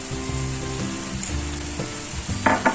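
Red pepper flakes stirred into chicken sizzling in a pan, a steady close frying hiss with scraping stirs at irregular intervals and a couple of sharper clacks near the end.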